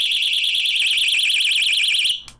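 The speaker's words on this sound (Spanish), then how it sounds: "este es una alarma, es un llavero alarma" A keychain personal alarm with a built-in flashlight lets out a loud, piercing, rapidly warbling electronic shriek for about two seconds, then cuts off abruptly.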